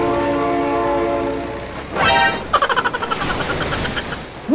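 A train horn blares in the BeamNG Drive driving game, a sustained harmonic tone lasting about two seconds, then a rising swell and rhythmic clattering bursts of train noise and crashing as the train arrives.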